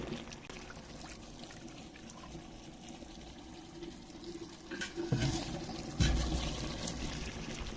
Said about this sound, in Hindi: तो अभी हम इसमें डालेंगे पानी।